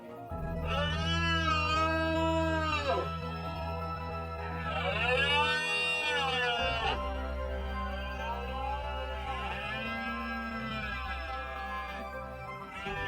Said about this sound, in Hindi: हिरण मिलन के लिए तैयार हैं। जंगल में उनकी पुकारें गूंज रही हैं।